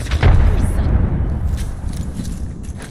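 A grenade blast in the battle-royale game Apex Legends during an arena match: a loud low boom at the start that rolls into a long rumbling decay, with a voice talking over it.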